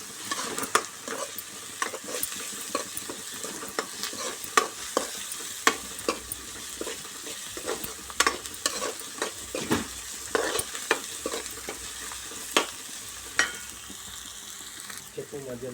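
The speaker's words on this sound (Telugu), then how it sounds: "అల్లం వేసి మంచిగా కలుపుకోవాలి" Ginger frying for a curry, stirred steadily in a pan: a continuous sizzle with frequent scraping strokes of the spoon throughout, close and fairly loud, no talking.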